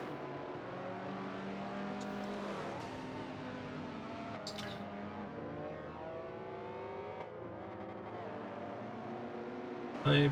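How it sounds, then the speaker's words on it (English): A Subaru 2-litre flat-4 race car with a dump valve. Its engine drones loud and steady throughout, with sweeping revs rising and falling, brief sharp hissy bursts, and a louder final moment. "that dump valve of that Subaru 2 litre flat 4"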